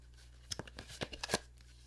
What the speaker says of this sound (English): Now let's shuffle the cards and take a look at